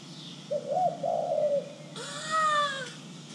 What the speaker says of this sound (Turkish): Kuşlar var pencerede.